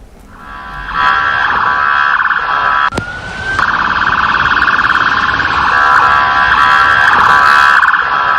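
Police cars with wailing sirens head toward the White House in a continuous line, a loud, sustained siren tone that swells and shifts pitch throughout, with one sharp, brief sweep partway through.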